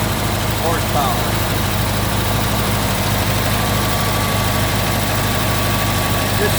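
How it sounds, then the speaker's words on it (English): A 1969 Porsche 912 with a 1700 cc engine idles steadily, a loud continuous low rumble and vibration close by without pause. "you can tell the idle's just starting to drop back down again"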